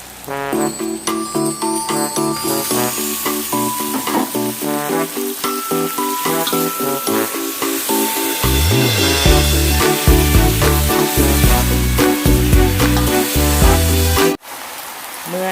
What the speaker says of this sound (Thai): เราก็ใส่มะเขือเทศที่หั่นเอาไว้แล้ว เข้าไปผัดรวมกันกับเนื้อหมูค่ะ